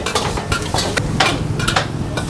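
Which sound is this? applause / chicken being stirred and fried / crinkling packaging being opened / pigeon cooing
chicken being stirred and fried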